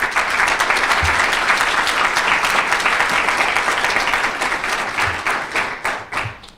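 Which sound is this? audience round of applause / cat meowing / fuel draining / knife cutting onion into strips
audience round of applause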